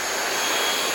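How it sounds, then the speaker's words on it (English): A Shark VacMop Pro cordless vacuum mop runs on suction, a steady, close whooshing roar with no pauses. "It's actually a pretty dang strong suction for such a small unit."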